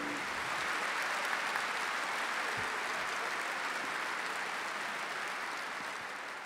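Sustained applause from an audience at the Zlatna Bubamara 2023 music awards show for a legendary musician, a loud, dense wash of clapping that holds steady throughout and eases slightly toward the end.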